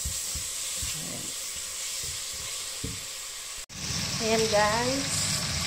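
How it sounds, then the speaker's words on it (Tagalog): Garlic, onion and ginger sauté in a pan over low heat, a steady frying sizzle with some stirring, while someone talks over it. "igigisa natin ang bawang sa mahinang apoy, bawang, sibuyas at saka luya."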